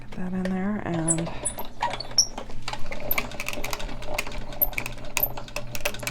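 Craft cutting machine running a sheet through with a top sheet, making a continuous close whirring, clicking patter with brief rhythmic motor bursts, and a voice heard briefly at the start.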